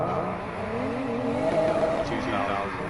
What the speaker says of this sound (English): people think that it's a truck because the turbo is extremely loud